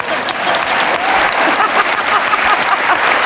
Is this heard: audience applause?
yes